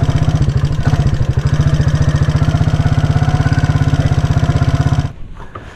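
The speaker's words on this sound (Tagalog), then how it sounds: "Ayan, nag-motor tayo." A motorcycle engine runs close and loud with a fast, even pulsing throb that holds steady before cutting out near the end, leaving brief quieter sounds.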